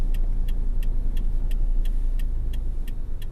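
A Toyota Corolla with a 1.8 liter inline four-cylinder engine cruising steadily, a low even engine drone and road rumble heard from inside the cabin, with a faint regular ticking, like a turn signal, repeating about three times a second.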